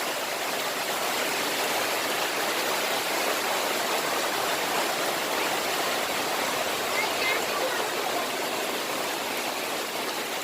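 Dense, steady rain pours down with a constant hiss of rushing water, loud and unbroken throughout.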